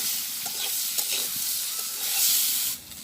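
Leafy greens sizzle and hiss steadily in a hot pan with turmeric while a spatula stirs them in soft, irregular scrapes, close and continuous with no talking.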